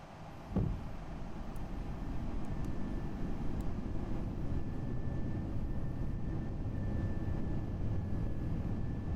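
Landing gear of an FSLabs Airbus A321 in a flight simulator extends with a short thump, followed by a loud, steady low rumble of airflow and engine noise that continues for several seconds, with no voices.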